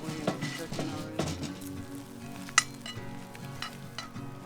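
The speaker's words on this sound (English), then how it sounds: "Get this over the fire. Get it sizzling and cooking already." Butter and garlic sizzle steadily in a pan over an outdoor fire beside a freshly caught trout, a close, even frying hiss with occasional stirring clinks and a utensil scrape.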